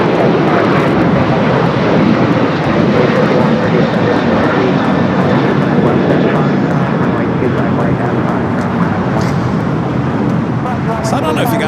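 An American Airlines heavy jet at Los Angeles LAX airport, a loud continuous engine roar filling the whole stretch with steady broadband rumble, with faint radio voices beneath.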